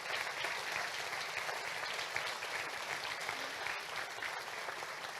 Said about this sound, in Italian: anche un applauso ai ragazzi